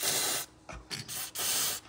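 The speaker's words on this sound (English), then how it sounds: "take some WD-40 or any kind of penetrating oil and soak those threads down" WD-40 penetrating oil is sprayed onto bolt threads on a Ford F-150 exhaust in several close, hissing bursts of uneven length, each stopping abruptly.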